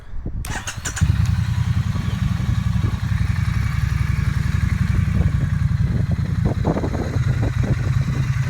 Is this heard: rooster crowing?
no